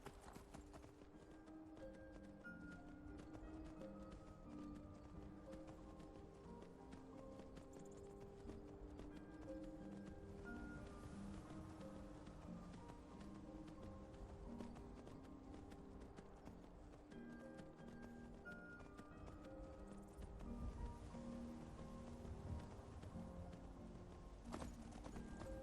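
Horse hooves clip-clop steadily in the video game Skyrim, a continuous, even rhythm of close footfalls running the whole time over a sustained tonal background.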